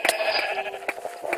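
Sheep bleat in a Minecraft Sheep Quest minigame, a short, close, loud bleat with a couple of quick overlapping calls, no talking.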